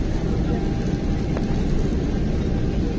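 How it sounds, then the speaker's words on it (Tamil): Airliner rolling down the runway at Chennai airport before takeoff, a steady broadband engine roar heard from inside the cabin, continuous and moderately loud, with people talking faintly beneath. "ஃப்ளைட்டு ரன்வேல ஓடிக்கிட்டு இருக்கு"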